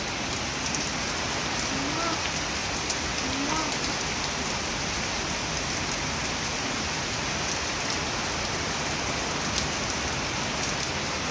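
Steady, dense first monsoon rain pours down continuously, a heavy even hiss with no breaks.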